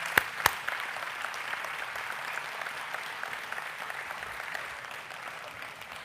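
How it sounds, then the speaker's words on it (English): Audience applause fills a hall of fame and hall of honor ceremony for SMU Athletics, a steady dense wash of many hands clapping from start to end, with a couple of sharper claps near the beginning. "Can I have Mary Law a round of applause"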